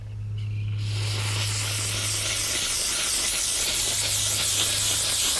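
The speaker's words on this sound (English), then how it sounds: "I'm just going to lightly steam this, and I'm going to wipe it with a microfiber" A steam cleaner hisses continuously and loudly while steaming a car interior, a steady spraying rush with a low hum underneath.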